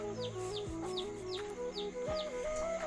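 Chickens cluck on a poultry farm, sounding in short repeated calls over a steady, busy background of other birds, moderately close and without talk.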